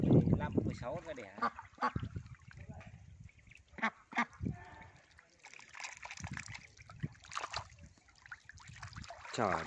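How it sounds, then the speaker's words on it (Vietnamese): A flock of ducks at a farm fish pond honks and quacks repeatedly, a busy cluster of calls with splashing water, while someone talks over them outdoors. "Trời mấy chú vịt này, úi."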